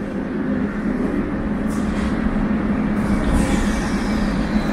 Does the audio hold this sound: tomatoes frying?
no